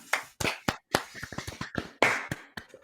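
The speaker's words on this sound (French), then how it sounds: "on applaudit." Scattered, uneven hand claps from a small group, individual sharp claps with gaps between them rather than a full ovation, close and fairly loud.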